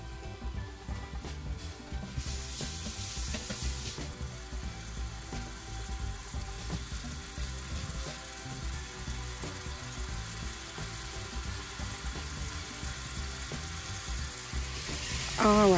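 Seasoned shrimp frying in a pan for shrimp fried rice, giving a steady, continuous sizzle with occasional clicks of stirring throughout.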